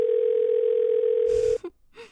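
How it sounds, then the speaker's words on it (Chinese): A steady telephone dial tone hums continuously for about a second and a half as a call is being placed, then cuts off abruptly, followed by a brief rustle and a couple of short faint tones. "我现在就给谭总打电话，让他明天就来签约。"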